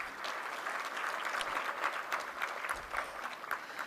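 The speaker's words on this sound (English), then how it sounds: "a round of applause for all of our award recipients" An audience at a chamber of commerce annual meeting claps for award recipients in a steady, moderately quiet burst of applause that carries on evenly for a few seconds without voices.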